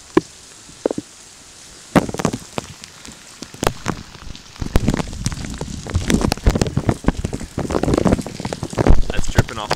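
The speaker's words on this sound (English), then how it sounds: "Just constant rain coming down." Steady rain in the California mountains, a dense pattering wash with sharper close drips and taps building in loudness, and a person speaking briefly early on.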